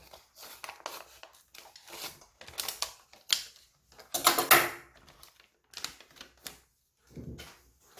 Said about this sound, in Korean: 가위로 자를게요. 잘안 잘라졌어요.